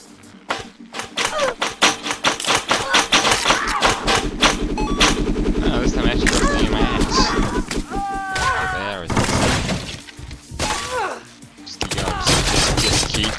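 Bursts of rapid gunfire crackle through the Happy Wheels video game, loud and dense, with flurries of shots, thuds and chiming game effects layered together.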